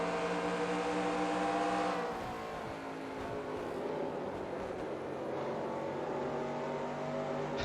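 A race car engine in the NASCAR Racing 2003 video game drones steadily and loudly for the whole stretch, with a sustained, slightly wavering pitch and no talking.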